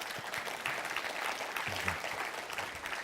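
Audience applause fills a spiritual talk hall, steady dense clapping from a crowd that holds at an even level throughout, with no voices on top.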